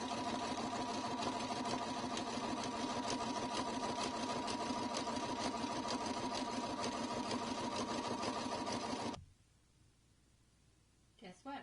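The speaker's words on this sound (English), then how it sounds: "we're going to just start stitching the final round of stitching" Embroidery machine stitching the final round of an in-the-hoop zippered pouch, a steady fast mechanical whirr and rattle running continuously for most of the clip before stopping abruptly into near silence.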